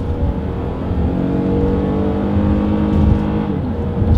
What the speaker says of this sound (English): let's see how quickly we can get this new 2020 Toyota Highlander here up to speed